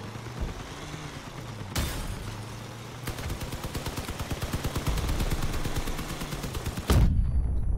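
Vehicle-mounted guns fire in the combat game Crossout: rapid automatic bursts with sharp cracks and a booming shot, loud and close, the stream growing denser toward the end.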